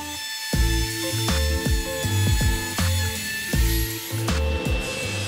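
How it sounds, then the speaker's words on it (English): A handheld router trims a hardboard top flush with its MDF base, cutting with a loud, steady high whine interrupted by repeated low thumping bursts as the bit bites along the edge, close up with no talk. "I used the router to flush everything up."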